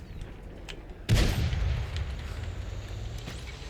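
A Chieftain T95 tank cannon fires in a video game, a single heavy, loud boom with a deep low rumble that lingers and fades after the blast.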